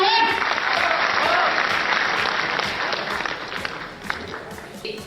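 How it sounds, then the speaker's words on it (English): School audience at a Leeds school event giving a big round of applause, dense continuous clapping from many hands, loud at first and gradually thinning with some voices underneath. "So all of you requested to give him a big round of applause."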